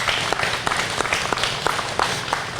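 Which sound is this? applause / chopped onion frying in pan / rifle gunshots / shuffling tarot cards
applause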